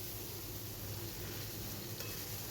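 Several pieces of fish fry together in hot oil, giving a faint, even sizzle and soft hiss with no talking.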